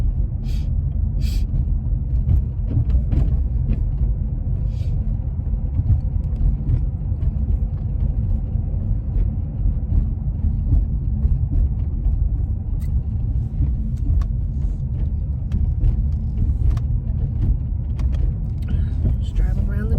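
A car drives slowly around a trailer park, its engine and tire rumble steady and low throughout, with occasional small clicks and knocks from inside the cabin.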